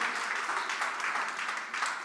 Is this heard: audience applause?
yes